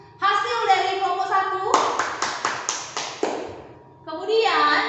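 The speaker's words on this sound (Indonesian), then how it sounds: "kita beri tepuk tangan untuk hasil dari kelompok" A class of students briefly claps for a group's discussion results: a short burst of a handful of distinct, fairly close claps, set between stretches of a teacher talking.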